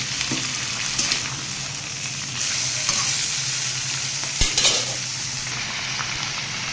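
Broccoli and new potato bhaji, with a little cauliflower, sizzles steadily in a pan, joined by a couple of utensil knocks and stirring sounds.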